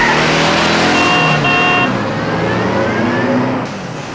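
A car drives off in a scene from the 1971 film Harold & Maude, its engine loud and close with a rising then settling tone, mixed with layered music or horn-like tones throughout.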